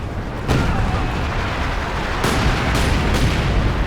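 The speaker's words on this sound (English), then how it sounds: "We can't even see because of all the explosions." Continuous rumbling battle din from a Company of Heroes 2 match between German and Soviet-British heavy armor and artillery, with broadband blasts at intervals and sharp explosive bursts punctuating a dense, loud roar.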